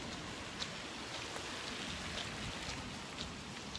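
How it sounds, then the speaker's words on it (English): Rain pours steadily on a street, a dense even hiss of drops hitting surfaces with occasional sharper splashes, and no one talks. "We got caught in the rain."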